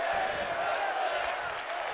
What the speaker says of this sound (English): As now this crowd is chanting women's wrestling here